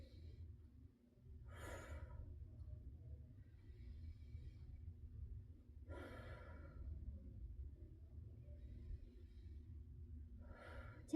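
Three slow, deep breaths during a yoga session, each a soft airy exhale rising out of a steady low room hum, spaced several seconds apart and fairly faint, with no talking.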